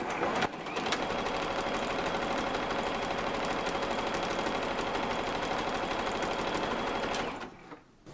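A sewing machine runs a decorative stitch pattern (number 73), a loud, steady mechanical whir that holds for about seven seconds and then cuts off abruptly.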